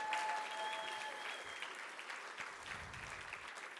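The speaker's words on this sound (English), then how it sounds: "Can we get a really big round of applause for that?" A large conference audience of union members gives a sustained round of applause for members of Congress, steady dense clapping at moderate distance, with a faint tonal whistle early on.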